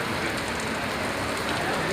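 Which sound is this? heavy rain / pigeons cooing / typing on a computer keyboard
heavy rain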